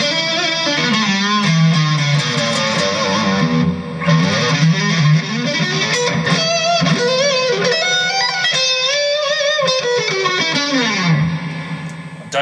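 Electric guitar played through a Peavey VIP-2 amplifier with reverb set high, a Dean semi-hollow body giving distorted, effect-laden chords and sliding lead lines that ring out continuously and loudly with a long, washy tail.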